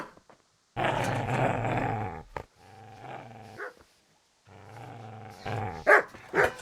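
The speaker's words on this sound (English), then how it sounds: "Get away, you mutt!" A dog in the medieval game Kingdom Come: Deliverance growls and barks at a man, a long rumbling snarl followed by further growls and a few sharp barks, close and loud.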